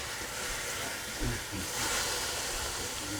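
Steam hissing steadily from a pot on a stovetop turned up high while cabbage and ground provisions cook with a little water, a broad continuous hiss with a soft thump partway through.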